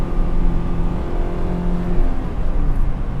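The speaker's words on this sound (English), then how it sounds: "Downshifting, using heel and toe," An Acura Integra engine revs steadily and loudly through a heel-and-toe downshift, with a continuous close-up drone and no voices.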